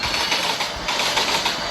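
Broadband rushing roar of a train passing close by in the opposite direction, heard from aboard a moving train on a Durgapur to Kanpur journey, steady and loud with faint rhythmic rail clatter underneath.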